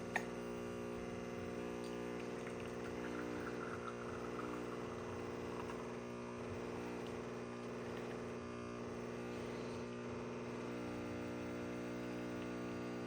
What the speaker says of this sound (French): Et maintenant, pour la pompe, quand la machine se met en marche,